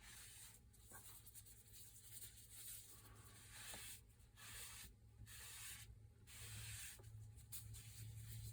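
A hand wipes paint off a wooden hanger board with firm downward pressure, giving quiet, close rubbing strokes that swell and fade in an uneven rhythm.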